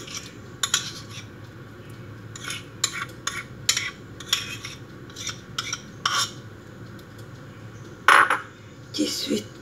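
Spoon clinking and scraping in a bowl as melted cheese and butter are mixed with milk for a simple carrot cake, a steady run of close metallic taps with a sharper clatter near the end.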